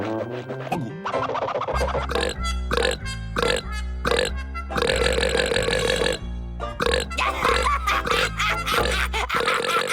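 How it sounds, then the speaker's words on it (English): A cartoon character lets out long, loud, drawn-out burps one after another, gurgling and croaking almost continuously with brief gaps. The burps are close, with no talk over them. "Edward's teaching me how to burp."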